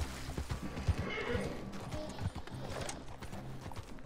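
Hoofbeats of a horse clopping along in Red Dead Redemption 2, with a whinny partway through, mixed with game ambience and faint talk.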